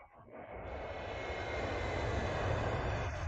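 Military jets, including bombers and F-22 Raptors, pass overhead, a broad, steady engine roar swelling in over a few seconds and holding, distant and fairly faint.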